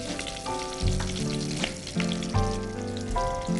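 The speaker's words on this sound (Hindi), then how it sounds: "देख रहे हैं कि राई क्रकल होना शुरू हो गया है, तो इसमें अपन थोड़ा सा जीरा ऐड करते हैं" Mustard seeds, cumin and curry leaves sizzle and crackle in hot oil for tomato kadhi, a strong continuous frying hiss with a few louder swells, close up and without voices.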